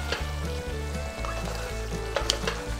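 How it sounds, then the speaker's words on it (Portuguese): Chopped onion sautéing in a pot while cooking Brazilian frango mineiro with the drip-and-fry technique, a steady sizzle and fry with soft stirring scrapes across the stuck-on browned bits at the bottom of the pan, close and continuous without voices. "À medida que a cebola for refogando, vai ajudar a soltar aquele fundo colado na panela."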